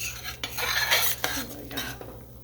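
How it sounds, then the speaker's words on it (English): A utensil stirs thickening pork chop sauce in a pan, metal scraping and clinking against the pan over a soft sizzle, with short bursts of scraping and brief pauses; no one speaks. "So I'll go ahead and stir that around."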